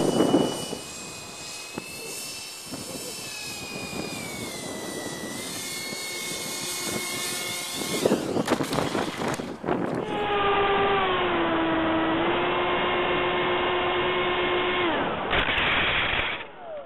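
A scratch-built ducted fan RC YC-14 park jet cargo plane whines overhead while coming in to land, a loud sustained electric fan tone that shifts in pitch, drops and rises as it passes close.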